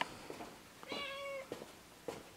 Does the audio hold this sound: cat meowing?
yes